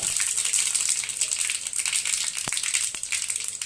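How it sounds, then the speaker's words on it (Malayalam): Mustard seeds tipped into hot oil for a cucumber curry crackle and sizzle in a steady, close hiss, with a couple of sharp pops near the end. "ചൂടായ എണ്ണയിലേക്ക് 1 ടീസ്പൂൺ കടുക് ചേർത്ത് കൊടുക്കുക"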